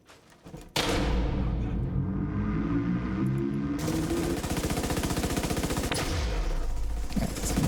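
Rapid automatic gunfire from a first-person shooter video game, one long sustained burst of loud, dense shots running almost without pause after a short quiet start.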